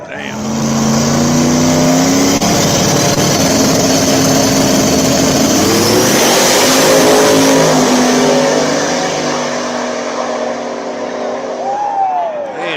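Racing cars roar past nearby, their engines revving loud and continuous with a rising, sweeping pitch as they accelerate, while voices talk underneath.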